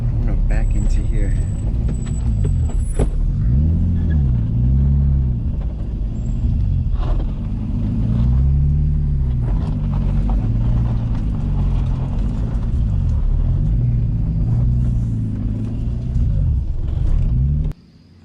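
A car turns around and backs into a spot, its engine rumbling steadily and rising and falling as it maneuvers, with an air-brake-like hiss near the start and a sudden cutoff at the end.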